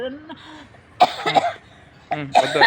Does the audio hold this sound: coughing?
yes